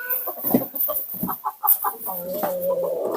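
Free-range village chickens cluck in short, irregular bursts close by on a small home farm, with a busy barnyard murmur filling the background.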